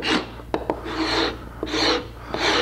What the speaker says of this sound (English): This is a Woodcraft, what is it, the deluxe scraper set.